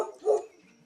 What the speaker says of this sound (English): Obi, what are you barking at?